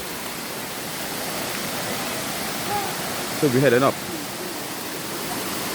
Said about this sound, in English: See new waterfall.